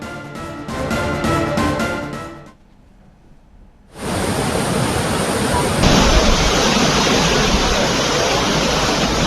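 The flooded Manjira river in Medak, swollen by heavy rains, roars as a loud, steady rush of water. The roar briefly drops to a quieter stretch before returning at full strength.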